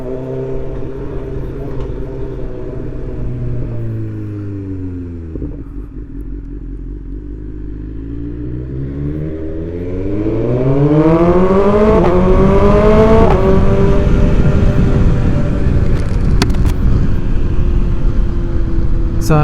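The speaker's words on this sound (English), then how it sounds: "See, bike sounds really good." A BMW S1000XR M Package motorcycle fitted with an Akrapovic titanium exhaust, riding steadily: a loud, continuous engine note that rises and falls through gear changes and grows louder as it accelerates hard in the second half.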